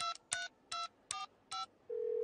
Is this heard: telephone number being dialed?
yes